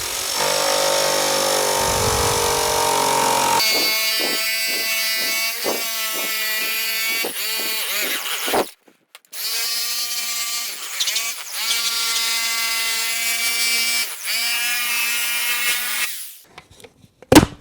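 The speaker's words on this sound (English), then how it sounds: "Let's go ahead and just try the jigsaw." A jigsaw cuts through PVC for snowboard binding highbacks, its loud motor buzzing steadily in two long passes and stopping briefly between them, with a rattling blade chatter against the plastic.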